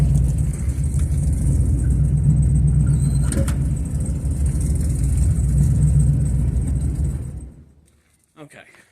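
A Chevy C10 pickup's 454 V8, fitted with a new exhaust and running rich, idles with a deep, loud, close rumble for several seconds before being shut off, leaving near silence and a faint clatter.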